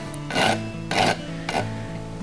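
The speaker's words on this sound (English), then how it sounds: "I'm going to rasp underneath the horseshoe nail, just taking the burr off" A farrier's rasp scrapes three quick strokes under a horseshoe nail on a hoof, each a loud close gritty rasp with short pauses between.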